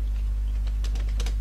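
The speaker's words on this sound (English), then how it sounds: "Now again we will type the same question." Keys on a computer keyboard tapped while typing an exam question into an online form, a short burst of soft clicks clustered toward the end over a steady low electrical hum.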